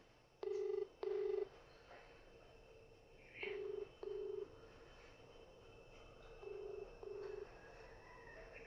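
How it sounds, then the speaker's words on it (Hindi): A telephone rings in three pairs of short electronic trills, evenly spaced and fairly clear over a quiet hum, with no one talking. "अभी फोन नहीं उतारा है,"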